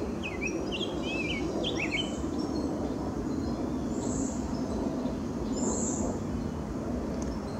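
Outdoors along a towpath trail in July, a bald eagle gives repeated high chittering calls while red-winged blackbirds harass it, with chirps and whistles from several birds over a steady background of insects and wind.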